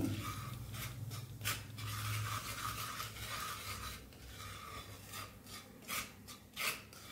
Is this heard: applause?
no